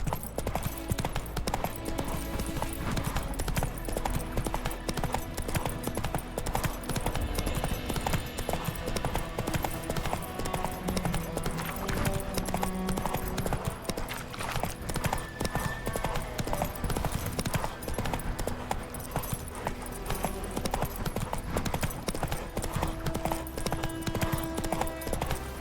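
Hooves of the horse Roach galloping in The Witcher 3, a steady clip-clop rhythm running throughout over dense game music and ambience, with a brief whinny.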